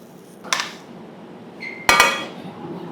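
Plates and utensils clink while a chef plates a dish during a cooking masterclass: two short, bright bursts of ceramic and metal clatter, close and fairly loud over a quiet room hum.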